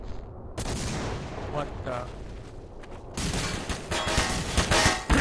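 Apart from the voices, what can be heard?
gunfire from the video game The Hidden: Source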